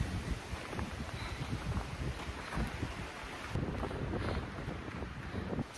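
Strong wind gusts roar and buffet against the microphone on a mountain trail, a continuous rough rumble that swells and eases in waves, loud and close with no talking.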